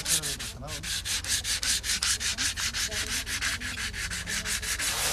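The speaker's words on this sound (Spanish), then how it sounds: "Una vez que está tallada la madera, hay que dejarla secar para que pueda ser lijada" Carved wood being sanded by hand, with strong rhythmic rubbing strokes, about five per second and evenly paced, loud and close, with no talking.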